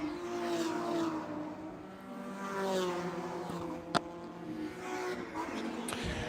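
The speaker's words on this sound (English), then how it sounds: "right behind the Spec Boxster of Sean O'Brien." Porsche Spec Boxster race cars scream around the Sebring circuit, engines revving high and shifting as they pass at close range, with a brief sharp knock midway.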